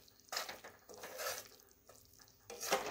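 Semolina roasting in ghee for rava ladoo, stirred in a pan: scraping and shuffling strokes with a soft sizzle, in a few uneven bursts close up, no talking.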